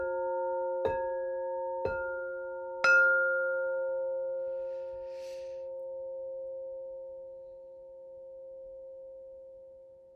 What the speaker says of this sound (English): let's cleanse the space with some beautiful sound bowls.